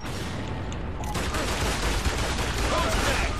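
Dense, continuous gunfire from a Gears of War: Judgment team deathmatch roars throughout. The overlapping shots blur into one loud, sustained barrage with no break.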